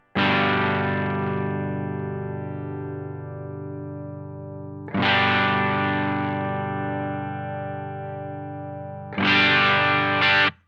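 Three ringing electric guitar chords through a Supro Drive pedal, each struck and left to sustain, thick with overdriven distortion and fading slowly before the next.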